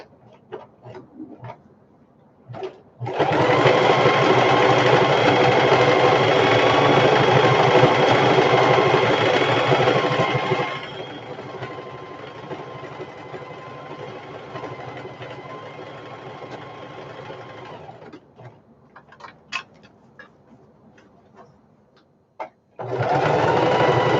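A sewing machine stitches a shoulder bag strap along an enclosed exterior seam, running in a loud steady burst for several seconds, then continuing more softly with short pauses before restarting.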